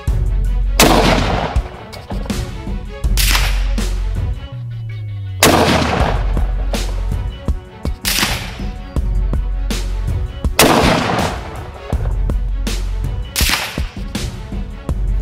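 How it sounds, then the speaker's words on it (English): Three sharp, loud rifle shots from an Enfield Arms Genesis One chambered in .223 Rem, fired several seconds apart at an accuracy test. Each crack is followed by a brief echo, and there are mechanical sounds in the gaps. "Three shots"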